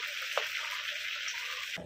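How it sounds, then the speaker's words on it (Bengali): Fish roe cutlets fry gently in a little oil on low flame, a steady, close hiss of bubbling with one small pop partway through. "ডিমের শেপটা দিয়েছি, এবার আমি তেলের মধ্যে দিয়ে দিচ্ছি।"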